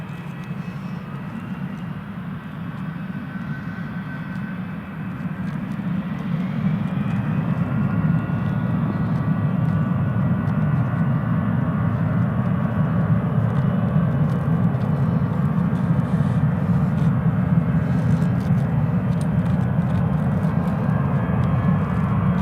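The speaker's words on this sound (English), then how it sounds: "EasyJet is clear for takeoff" EasyJet airliner taking off at Newcastle Airport, a broad jet engine roar swelling after a few seconds and holding loud and steady, heard from outside with no talk.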